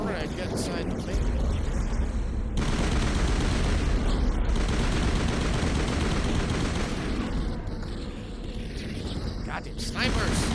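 Sustained, dense gunfire from snipers and other weapons in the Mass Effect video game, a continuous loud roar of shots and battle noise lasting several seconds with brief lulls, a voice speaking over parts of it.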